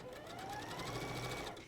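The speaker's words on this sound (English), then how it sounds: "I'm using a 1/4 inch seam allowance and just sewing along" A sewing machine runs steadily, stitching fabric pieces together along a quarter-inch seam with a continuous close mechanical whir and no pauses.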